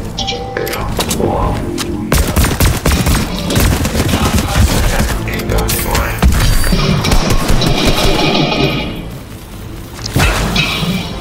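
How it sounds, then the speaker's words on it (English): Video game gunfire in a duos match crackles in dense, loud bursts and bangs, with rapid automatic volleys and heavy thuds filling the whole stretch, a voice briefly heard among them. "Who are they shooting at?"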